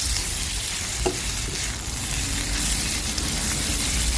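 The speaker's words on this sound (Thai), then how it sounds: "เราจะผัดผักกาดดอง ให้แห้งๆนะคะ" Pickled mustard greens are stir-fried in a pan. A steady, close sizzle runs throughout, with scraping stirs and an occasional sharp tap of the utensil against the pan.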